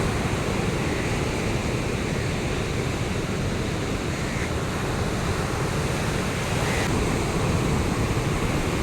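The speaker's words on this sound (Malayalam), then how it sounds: "തിരമാലകൾ ഇങ്ങനെ അടിച്ച് കയറി വരുന്നത് കണ്ടോ എന്തൊരു സൗണ്ടാണ് അതിൻ്റെ" A steady, dense roar of waves breaking on the shore, loud and unbroken, with wind rushing across the microphone.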